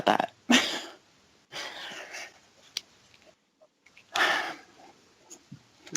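A dog burps loudly at close range in a quiet room, with several short throaty bursts separated by pauses.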